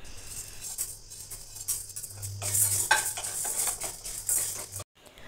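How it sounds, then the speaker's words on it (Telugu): Chana dal and urad dal frying in a pan over a low-to-medium flame, with a spoon stirring and scraping through the lentils in repeated strokes and light metallic clinks over a faint sizzle. "శనగపప్పుని, మినపగుళ్ళని వేసుకొని ఫ్లేమ్ని సిమ్ టు మీడియం ఫ్లేమ్లో పెట్టి ఫ్రై చేసుకోవాలి"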